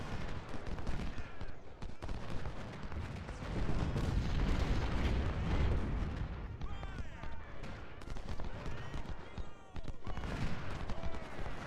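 Brigade volleys roar in the Civil War strategy game Ultimate General: Civil War, with dense overlapping musket fire and heavy booming reports making a continuous battle din, and someone talking over it.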